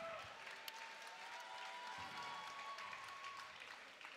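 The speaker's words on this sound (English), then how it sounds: "ladies and gentlemen, a big applause for both fighters, Guillaume Pinas and Youssef Khalouta." An audience at an Enfusion kickboxing event applauds the fighters, a sustained wash of clapping and crowd noise heard from within the arena, with a faint voice beneath it.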